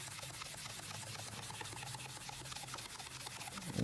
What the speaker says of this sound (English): turn the sponge around, spray a little bit of alcohol or water if you want, and then just continue with the cleaning process.